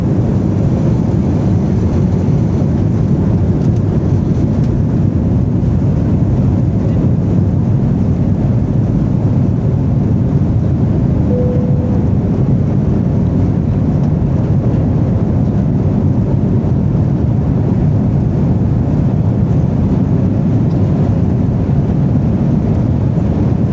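Austrian Airlines airliner pushing back and taxiing toward the runway, heard from the cabin as a loud, constant engine drone and rumble that stays steady throughout with no talk.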